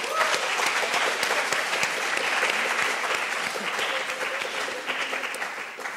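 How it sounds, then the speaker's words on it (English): At a summer research symposium, an audience applauds the students in a sustained, even wash of clapping that holds at a steady level throughout and only eases slightly near the close. "Can we have another round of applause for all of our students today?"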